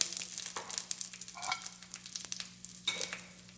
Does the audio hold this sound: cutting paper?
no